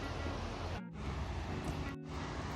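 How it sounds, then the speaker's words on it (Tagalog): Kravica waterfall in Bosnia and Herzegovina pours as a steady, dense roar of falling water, heard from nearby and continuous apart from two short dropouts. "Naririnig ko na yung bagsak ng tubig."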